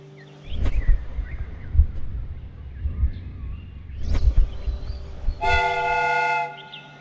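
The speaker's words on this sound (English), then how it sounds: "The steam whistle is ready to be used." The steam whistle on a train replica in the Sherlock Holmes: Crimes & Punishments video game blows a loud, sustained tonal blast near the end, after a stretch of rumbling mechanical clanks and thumps.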